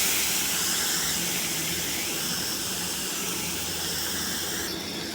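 Spice paste with ground cumin fries in a pan, giving off a loud, steady, unbroken sizzle and hiss throughout.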